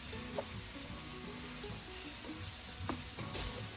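Sliced onions hit a pan of frying chicken and broccoli, giving a soft, steady sizzle with a few utensil clicks and scrapes; quiet and fairly distant.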